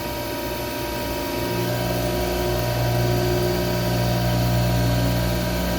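A milling machine takes a heavy cut with a 3/4 inch three-flute carbide end mill at about 3,500 RPM and 60 inches a minute, cutting a powered fishing reel body. It gives a steady, loud, continuous droning whine with no talk.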